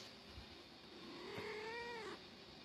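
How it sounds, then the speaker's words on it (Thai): A cat gives a single drawn-out grumbling meow, rising and wavering before it trails off, close and fairly quiet against a faint background hush. "ทำไมเป็นแมวขี้บ่นขนาดนี้วะ"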